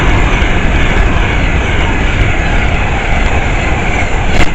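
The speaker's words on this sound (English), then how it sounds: "Train passed by is a Vanty 390" An Avanti West Coast Class 390 Pendolino passing through Harrow & Wealdstone station at speed, bound for Lancaster: a loud, sustained broadband roar and rush of wheels and air close by, steady throughout with no talk.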